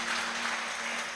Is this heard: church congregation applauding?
yes